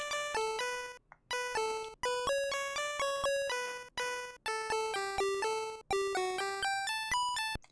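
A Game Boy pulse-channel chiptune melody programmed in LSDj plays bright square-wave notes in a quick stepping rhythm, with short gaps between phrases, fairly quiet and free of speech.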